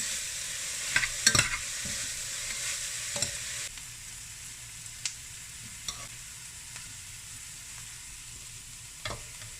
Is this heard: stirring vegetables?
yes